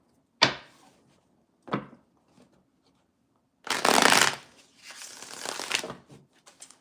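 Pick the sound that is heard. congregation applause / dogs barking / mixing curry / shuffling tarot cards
shuffling tarot cards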